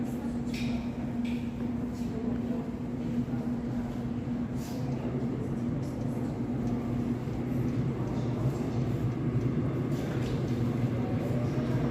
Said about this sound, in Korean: 지금 이 열차를 타고